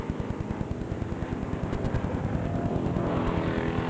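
Race cars, among them car number 36, lap a track during the seventh lap of a 10-lap event at a 2006 race day, their engines a steady, fairly close roar that swells slightly as they pass.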